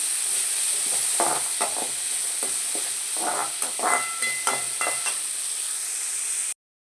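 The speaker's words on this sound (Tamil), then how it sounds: "ஆனியன் ஆட் பண்ணிக்கலாம். ஆனியன் நல்லா வதங்கட்டும்." Onions sauté in a pan with curry leaves for mushroom pepper masala, giving a steady sizzling hiss with repeated scraping stir strokes from a spoon, close and continuous, no talk.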